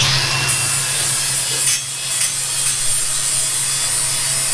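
Steel jack stand surfaces being prepped by hand, a steady rasping scrape of a file or sanding across metal that runs continuously and close over a low workshop hum.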